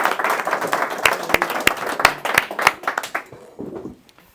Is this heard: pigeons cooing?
no